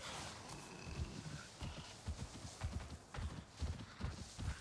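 A horse's hooves clip-clop steadily in the Avatar Frontiers of Pandora video game, a fast, repeated rhythm of soft thuds running under quiet ambient game sound.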